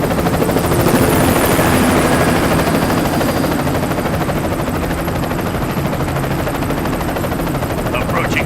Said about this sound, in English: hitches a ride on a helicopter